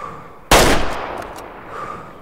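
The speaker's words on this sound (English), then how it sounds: "That was a better shot." A single loud rifle gunshot during a deer hunt from a stand, a sharp crack followed by a long fading echo outdoors, with no talk.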